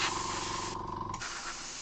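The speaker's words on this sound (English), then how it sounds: "We're just going to spray the silver areas." An airbrush hisses steadily while spraying silver paint onto the metal areas of a miniature, a continuous close, soft spray that drops off slightly near the end.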